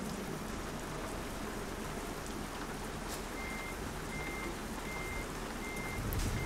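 Steady reversing beeps from a truck pulling two trailers in Euro Truck Simulator 2 repeat evenly over a constant hiss like rain, faint and without talk.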